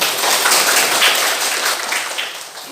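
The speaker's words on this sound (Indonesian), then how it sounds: "tepuk tangan untuk semuanya" Classroom students clapping together in a dense, steady burst of applause lasting a few seconds, close and fairly loud with no talking over it.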